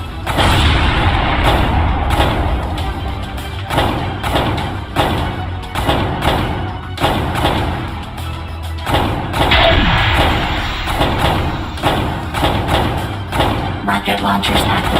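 Missile launches in the Space Fighter video game, heavy repeated thumps and booms in a dense, loud, continuous barrage of game sound effects.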